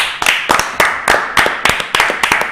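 Rhythmic unison clapping from a large crowd at a stadium ceremony in Argentina, a steady beat of about three claps per second, loud and close, with no talk over it.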